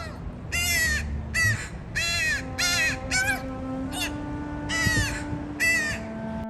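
A crow caws about eight times in short, harsh bursts with brief gaps between them, loud and near over a steady low hum.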